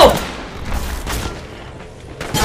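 Gunfire in a battle royale shooter during a ranked match, several loud broadband shots bursting in the first second and again near the end, with quieter rumbling fire between them.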